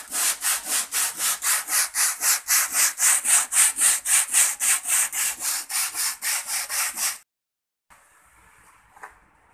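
Steady back-and-forth rubbing on a surface being prepared for putty filling, about twenty quick rhythmic strokes, loud and close, stopping abruptly and followed by faint handling sounds.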